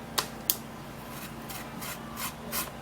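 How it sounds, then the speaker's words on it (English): A banana peel is scraped in close, steady rasping strokes, about half a dozen passes over a few seconds with a couple of sharper scrapes at the start, and no one talks. "So you're going to be scraping the peel this way."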